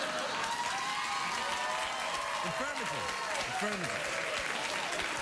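A late-night talk show studio audience applauds throughout, a continuous wash of clapping with a voice speaking briefly over it.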